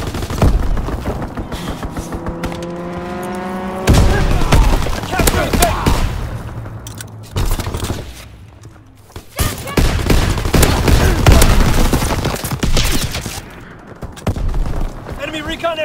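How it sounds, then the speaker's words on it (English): Heavy gunfire and explosions from an enemy strafing run in the World War II video game Call of Duty WW2, with dense bursts, booming impacts and loud chaotic battle noise, while game voices talk over it. "Enemy bomb incoming! Get to cover! Enemy strafing run, inbound!"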